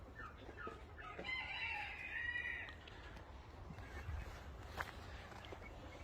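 Rooster crowing with some clucking from fowl at a bird reserve in a garden orchard, one clear crow in the first half, then quieter bird sounds over a steady outdoor background.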